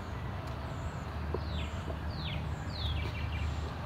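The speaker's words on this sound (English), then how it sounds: "You can hear birds singing." Several birds sing near a 100-year-old bridge in a small canal town, giving distinct downward-sweeping chirps one after another over a steady low hum of outdoor background noise.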